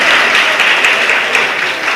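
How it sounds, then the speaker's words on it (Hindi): An audience at a spiritual talk bursts into loud, dense applause, many hands clapping steadily and close for the whole stretch, with no speech over it. "मेरे कहने से आपने जोर से ताली बजा दी"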